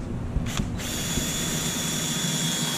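An electric drill boring a 9/64 pilot hole in aircraft sheet metal, a steady whirring grind with a brief bite partway through, close and alone, with faint clicks.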